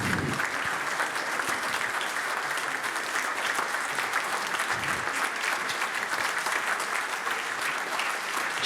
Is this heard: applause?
yes